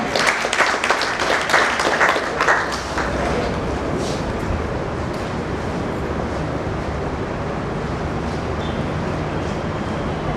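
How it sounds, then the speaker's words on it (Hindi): An audience at a book release function in Delhi claps loudly for a speaker, strongest in the first few seconds and then thinning into a softer, lingering patter and room noise. "जोरदार तालियों के साथ पांडे।"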